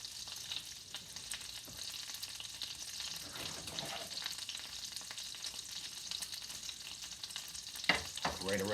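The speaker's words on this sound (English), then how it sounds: "I'm going to wait for the butter to get a little brown slightly." Butter browning in a pan with spätzle waiting nearby, a steady close sizzle and crackle of frying fat running throughout, with a brief louder spatter and clink near the end.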